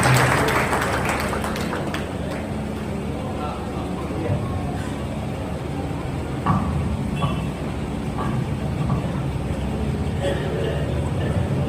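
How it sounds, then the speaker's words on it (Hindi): Sustained applause from a crowd at an all-India poetry gathering in Jagdalpur, a steady wash of clapping running throughout at even loudness, with a few louder claps standing out. "एक बार तालियां बजाएं जोरदार"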